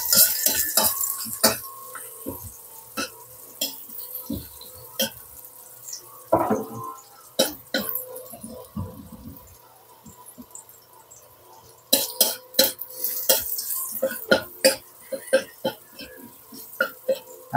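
A utensil clinks and scrapes against a cooking pan as garlic is stirred, with irregular sharp taps and clatter, quieter stretches between, and a cough partway through.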